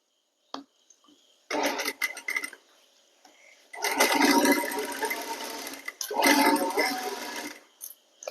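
A sewing machine runs in short and longer bursts of rapid mechanical whirring while stitching a hem edge and lining together, with pauses between runs and a brief start at the beginning.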